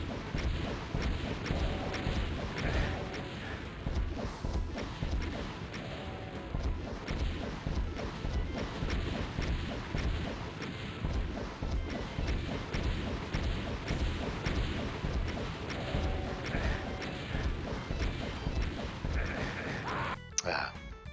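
Rocket launcher explosions in the Doom video game, a dense run of heavy crashing booms continuing steadily throughout and layered with game effects, with no talk over them.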